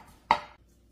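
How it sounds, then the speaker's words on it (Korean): A knife cuts through napa cabbage stems being sliced into thin strips; a single short, crisp cutting sound stands out against an otherwise quiet kitchen. "2개의 배추 줄기를 얇게 채를 썰어서 준비하시고요."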